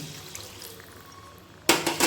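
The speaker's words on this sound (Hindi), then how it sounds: "अब हम इसमें डाल देते हैं 1 गिलास के करीब पानी" About a glass of water pours into a pot of sambar vegetables, a sudden loud splashing gush near the end after a quiet stretch of low kitchen noise.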